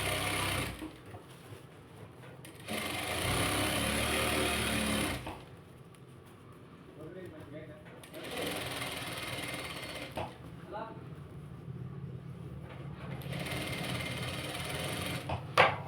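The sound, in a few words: sewing machine stitching thread piping around fabric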